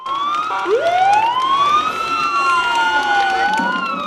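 Sirens sound loudly and close at a welcome for returning police fighters in Ivano-Frankivsk, their tones sweeping up and down, layered over one another with a faint bustle of crowd noise beneath.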